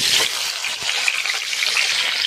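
Boiled potatoes sizzle in hot oil in a kadai, producing a loud, continuous, bright frying hiss up close with small crackles.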